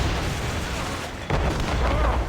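Ship cannon fire in Assassin's Creed Rogue during a naval ambush: a sudden deep booming blast cuts through the continuous roar of sea, wind and battle, then keeps rumbling under the noise.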